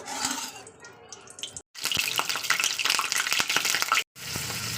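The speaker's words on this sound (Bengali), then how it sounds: "দিয়ে হালকা করে তেল আমি ভেজে নেবো চিকেনগুলো ভালো করে চিকেনটাকে ফ্রাই করে নেবো" Chicken frying in hot mustard oil, a steady loud sizzle with spatters and crackles, broken by two brief silent gaps.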